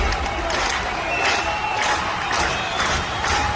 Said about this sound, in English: You hear the crowd clapping for Rollins